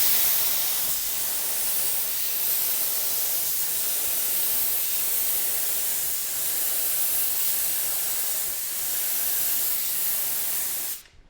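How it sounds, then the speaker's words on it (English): A spray gun lays a top coat finish onto a woodworking build over sanding sealer, producing a steady, loud, close hiss that runs continuously before cutting off abruptly. "I'm now getting ready to spray on our top coat."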